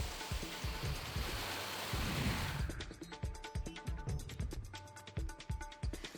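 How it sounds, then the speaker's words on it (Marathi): Unseasonal rain falls in Maharashtra: a steady, dense hiss at first, then a close patter of individual drops tapping a surface, with no voices. "पहाटेपासूनच कणकवली कुडाळ तालुक्याच्या काही भागात पावसाची रिपरिप सुरू आहे"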